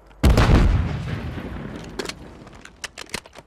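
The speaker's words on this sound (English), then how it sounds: "Stun grenade out!" A stun grenade detonating in the video game Call of Duty, a loud close boom with a long rumbling decay, followed by scattered sharp cracks of distant gunfire.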